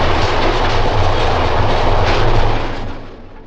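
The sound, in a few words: 1929 South Shore interurban railway coaches rolling along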